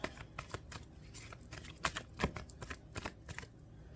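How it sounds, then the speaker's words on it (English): Tarot cards are shuffled close up in rapid soft riffling bursts, with papery slaps that repeat irregularly over a few seconds at low volume. "I'm going to reshuffle"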